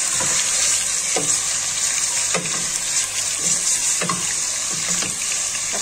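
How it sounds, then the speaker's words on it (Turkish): Meat frying in hot oil in a home kitchen, a loud continuous sizzle with a few stirring scrapes and clatters, no talking. "Şimdi eti iyice kızartsın."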